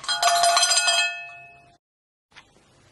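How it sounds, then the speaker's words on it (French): A single bright bell rings to signal a pause in a children's grammar game, striking several quick metallic clinks that ring on and fade over about a second, followed by near silence and a faint soft tap. "Quand tu entendras la cloche, mets la vidéo sur pause et essaye de pointer les mots."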